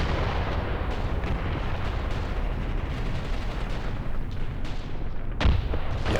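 Incendiary artillery fire in the Graviteam Tactics war game, a dense continuous rumble of distant booms and crackling bursts with one sharper blast near the end, no talk.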